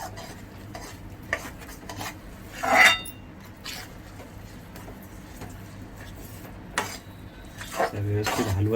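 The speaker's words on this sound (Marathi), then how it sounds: "व्यवस्थित हलवच राहायचं त्याला." A spoon stirs semolina sheera with cow's milk in a kadhai, giving steady scraping and clinking against the metal with a faint sizzle underneath and one louder scrape near the middle.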